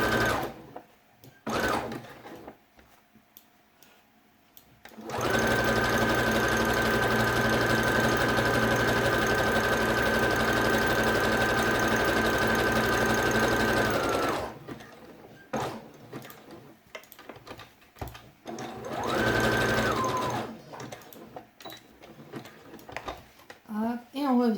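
Sewing machine running steadily for about nine seconds while stitching a felt quiet book, a continuous close whirring motor drone, with brief shorter runs before and after amid quiet handling noises.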